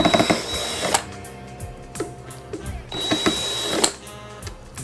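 A screwdriver works screws out of a JBL Venue Sub 10 subwoofer, producing close, repeated ratcheting clicks and scraping bursts in uneven clusters.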